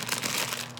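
A small plastic bag of tiny purple potatoes crinkles in a quick, close, loud rustle lasting under a second.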